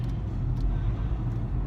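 Steady low engine and road rumble fills the cabin of a moving car, a continuous droning hum with no voices.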